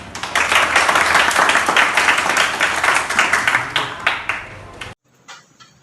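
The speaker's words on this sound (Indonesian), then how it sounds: "Baik, berikan tepuk tangan." A classroom of people in Indonesia claps steadily for several seconds, the applause fading out and stopping abruptly near the end.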